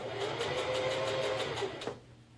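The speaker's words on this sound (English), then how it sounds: "I'm gonna pivot this little guy and keep sewing." Sewing machine topstitching a V-neck garment, a fast even run of needle strokes up close that slows and stops toward the end for a pivot.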